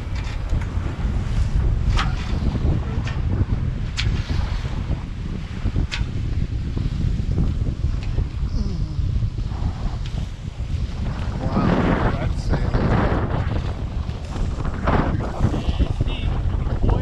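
A catamaran under sail from Stari Grad toward Vis in Croatia, with steady loud wind buffeting the microphone and continuous rushing water around the hulls, swelling louder in gusts.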